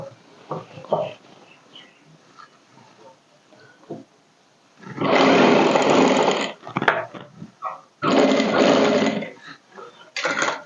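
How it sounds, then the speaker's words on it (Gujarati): A sewing machine stitching the neck band of a princess-cut blouse, two loud bursts of rapid mechanical whirring at close range separated by quieter handling clicks and rustles. "આપણે સીધી આ રીતે સિલાઈ લગાવવાની, જે રીતનો શેપ હોય એ રીતે આપણે સિલાઈ લગાવતા રહેવાનું"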